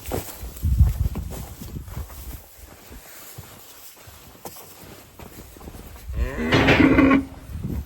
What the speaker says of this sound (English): Trying to get the cow in here with the calves